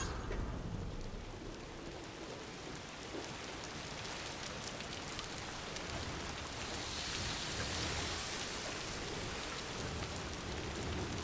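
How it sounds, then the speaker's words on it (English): Steady rain falls in the video game Death Stranding 2, a soft even hiss of drops on surfaces that swells slightly partway through, continuous and fairly quiet with no voices. "Of course, it's raining now."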